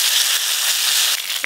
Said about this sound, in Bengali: সর্ষের তেল পাঁচ ফোড়ন, সর্ষে আর শুকনো লঙ্কা বাটা